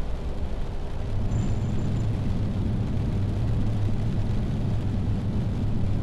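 An Airbus A330 landing on a runway in a flight simulator game gives a loud, steady, unbroken roar of jet engine and rolling noise, with no pauses or voices.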